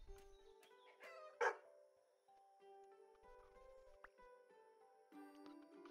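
A dog barks once, short and faint, in the farming video game No Place Like Home, over quiet background game music.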